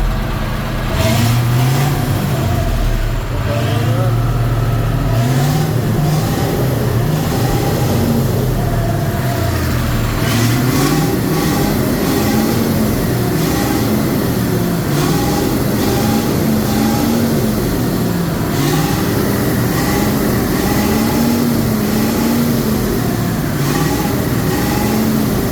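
A Kamaz truck engine runs and revs, a loud continuous rumble whose pitch rises and falls repeatedly over about twenty-five seconds, with no talking.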